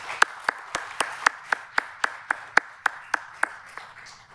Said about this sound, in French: Et je pense que nous pouvons d'ores et déjà l'applaudir.